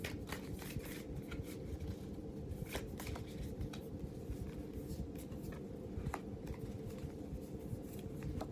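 Tarot cards are shuffled softly and continuously, with faint papery flicks and taps scattered over a low, steady rumble of room noise, quiet and without speech.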